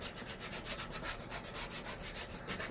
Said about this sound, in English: take your sandpaper and just start sanding wherever you want it to look worn